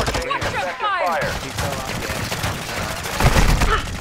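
Gunfire in the DMZ mode of Call of Duty, sounding as sustained bursts of shots mixed with game audio and radio-style alerts, with a heavier burst of shots near the end.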